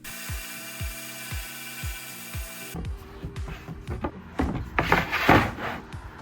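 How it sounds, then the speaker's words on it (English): A power tool cuts a sheet of plywood meant to sit under a bed in a Sprinter van camper, first in a rhythmic repeating whine, then in rougher, louder bursts of cutting noise. "we got to cutting the piece of plywood that's gonna go under my new bed"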